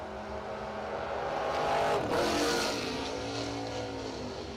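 A 1967 Mustang and a 1968 Camaro hot rod launch in a drag race, loud engines roaring and swelling as the cars pass close by, then fading down the strip.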